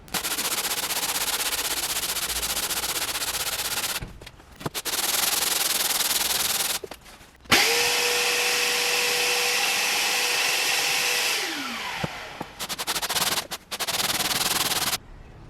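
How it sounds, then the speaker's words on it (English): Continuous abrasive rasping of sandpaper on a wooden guitar neck, interrupted by brief pauses, with a stretch where a steadier mechanical whine joins in before the rubbing resumes. "I'm actually going to shave off this top layer with some sanding"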